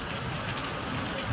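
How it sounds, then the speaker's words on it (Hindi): Heavy rain with hail pours steadily in Dehradun, a dense, constant hiss of drops drumming on surfaces with no pauses. "कितनी खतरनाक बारिश है, सीधा ऐसा लग रहा है कि पानी पानी पड़ रहा हो।"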